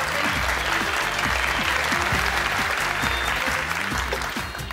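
Loud, steady applause from a TV game show audience as contestants are called up, with rhythmic music pulsing underneath throughout.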